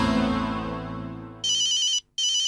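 A telephone rings with a bright electronic ringtone that starts after a fading musical tone, plays two loud bursts with a short gap between them, and goes unanswered, with no one speaking.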